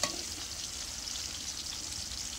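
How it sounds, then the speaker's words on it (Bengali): Oil frying in a pot for biryani gives a soft, steady hiss and faint sizzle throughout, with a small clink at the start. "এখন দেখো একটু ভেজে নিচ্ছি"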